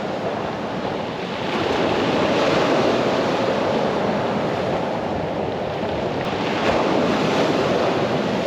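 Ocean surf washes steadily onto a beach during a fishing competition, a broad continuous roar mixed with wind buffeting the microphone, swelling slightly as waves break, with no talking.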